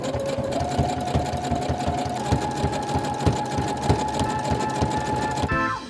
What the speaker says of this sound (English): I went on to embroidering the edges, for which I'm using the zigzag stitch on my machine.